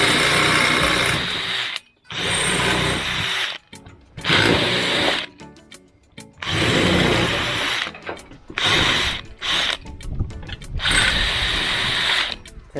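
A drill with a 3.5mm bit bores holes through a used box gutter, several loud whirring bursts of a few seconds each separated by brief pauses, close up with no talk.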